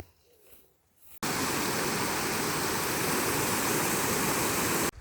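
Loud, steady rushing of a rain-swollen stream or small waterfall in Weem Forest, Scotland, in July, close by and constant, after a brief quieter moment at the start.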